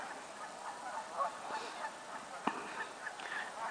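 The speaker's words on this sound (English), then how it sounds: "Snow geese coming in for a landing in the background." A flock of snow geese comes in to land after a blizzard, their honking faint and distant, scattered calls drifting over a low, steady outdoor background.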